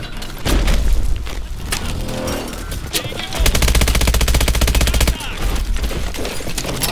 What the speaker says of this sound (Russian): Слышите, граната.